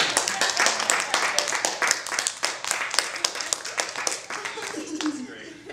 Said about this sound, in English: Everybody, a round of applause for Lindsay.